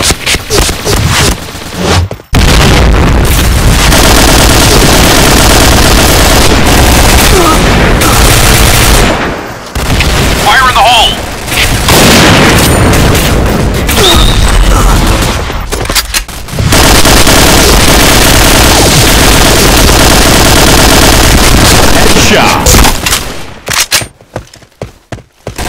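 Grenade blasts and rapid gunfire in the shooter game Point Blank, loud and dense bursts with brief gaps, repeated explosions and rattling shots filling nearly the whole stretch before fading at the end.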